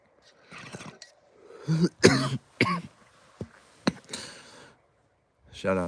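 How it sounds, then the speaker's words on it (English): A man coughs and clears his throat several times in short, harsh bursts, close and fairly loud, separated by brief quiet gaps, with some soft breathy vocal sounds between the coughs. "You have to forgive me if I cough, because I didn't bring my water"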